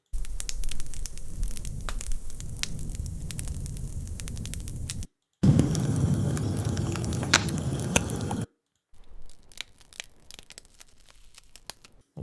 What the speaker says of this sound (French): un autre exemple ici avec du feu qui crépite